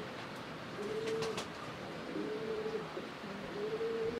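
Large red German pigeons coo softly in a loft, with several drawn-out low coos repeating over steady background hiss, with no talk.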